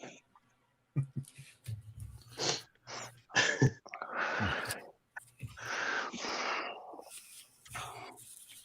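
Several bursts of loud, breathy puffing and huffing close to the mic, broken by short pauses, with faint voices in the background.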